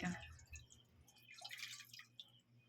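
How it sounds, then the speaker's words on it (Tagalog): A quiet splash of water hitting a frying pan just used for frying chicken, followed by scattered dripping and brief sizzling bursts, close up. "lagyan natin ng tubig yung kawali."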